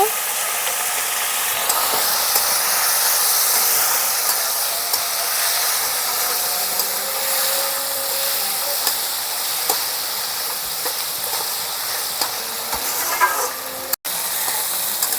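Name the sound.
potato and cauliflower sautéing with spices and a little water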